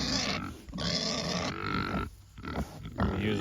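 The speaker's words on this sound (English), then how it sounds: "These are Berkshire pigs." Hungry Berkshire pigs kept behind an electric fence on a farm grunt and snort in repeated rough bursts, fairly close and loud, with short pauses between the noisy outbursts.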